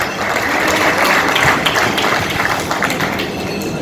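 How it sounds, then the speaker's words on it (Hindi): Audience applause at a news-channel event in India, a dense, steady wash of clapping from many hands that holds at full strength throughout without letting up. "तो एक बार इनके लिए ताली।"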